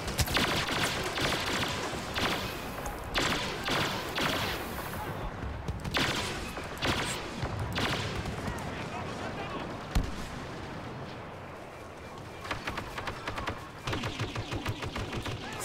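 Heavy blaster gunfire in a Star Wars Battlefront Walker Assault multiplayer match, with loud, dense volleys and explosive bursts close by. A few quieter moments break it up, and a voice can be heard under the din.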